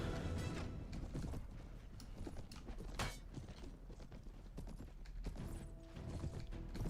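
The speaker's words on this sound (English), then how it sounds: "That is a really cool horse, and it really does fit my soldier." Horse hooves clip-clop steadily in Mount & Blade: Warband with the Prophesy of Pendor mod, a close, loud rhythmic run of hoofbeats with faint creaks of tack.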